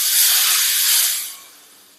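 Hot tempering poured into a fish curry gives a loud, close sizzling hiss that holds for about a second, then fades to a softer bubbling simmer.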